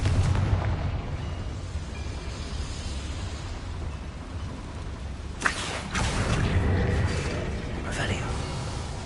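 A Confringo blasting spell explodes in Hogwarts Legacy with one sharp boom midway, set against a steady rumbling game soundscape of wind and hum, with some vocal-like sound in the mix.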